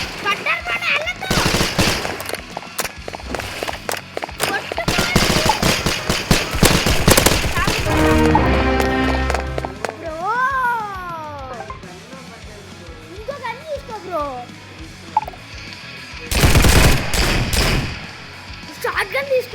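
Rapid bursts of gunfire in the shooting game Hypershot, dense automatic volleys and single shots, loud and close, broken by sweeping game sound effects, with players talking over it.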